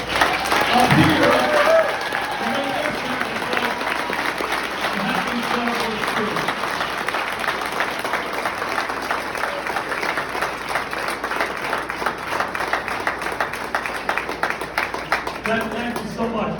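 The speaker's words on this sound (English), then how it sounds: "I want you guys to give a round of applause to all these people up here." A large audience applauds at a youth football league awards breakfast on Staten Island, a loud, dense sustained clapping that swells at the start and carries on steadily to the end, with a few voices and cheers mixed in.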